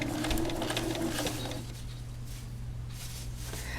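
A sewing machine stitching a curved quilt-piecing seam, a fast whirring run that fades after about a second and a half, then a low motor hum with faint clicks.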